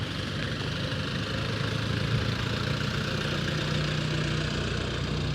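A car engine idles and hums steadily after shifting into second gear during a first-day driving lesson on a dirt lot, a continuous low drone heard close up with no talk.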